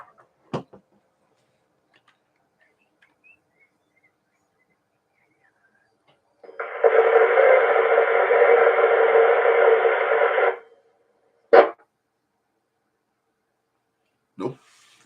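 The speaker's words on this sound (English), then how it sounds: "I'm just hearing static here in off the Cornwall repeater there." Radio static picked up off the Cornwall repeater on an amateur radio net, a steady hiss burst lasting about four seconds between faint clicks and short squelch pops in an otherwise quiet channel.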